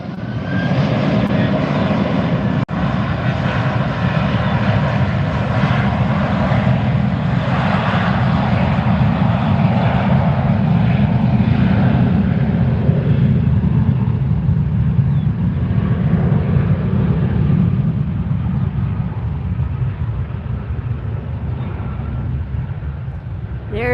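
A Douglas DC-3 propeller airliner takes off at Fort Lauderdale, its piston engines holding a loud, steady roar for the whole stretch before fading slightly toward the end.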